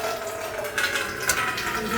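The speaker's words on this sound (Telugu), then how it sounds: "అంటే 1:2 రేషియో వాటర్ ఇసురు కింద ఇప్పుడే జస్ట్ పోసాము" Water pouring into a cooking pot of rice for a home-style pulao, made with a 1:2 ratio of fourteen cups of water to seven cups of rice, a steady close splashing rush running throughout with no talk.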